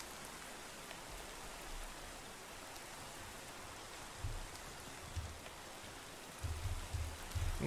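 Rain in Minecraft, a faint, steady hiss of falling rain with a few low thumps near the end, while a person speaks briefly over it.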